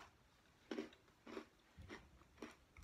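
Four crisp, crunchy bites of gingerbread cookie chewed close up in an otherwise quiet room, evenly spaced about half a second apart.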